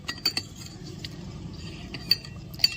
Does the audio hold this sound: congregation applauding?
no